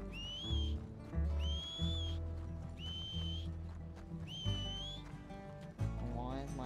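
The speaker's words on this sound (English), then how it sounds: "Why is my horse standing when I'm whistling for it?" In Red Dead Redemption 2, repeated sharp rising whistles for a horse, four or five in a row, ring out over a rhythmic musical backing with a horse's whinny near the end.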